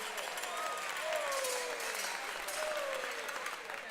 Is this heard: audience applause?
yes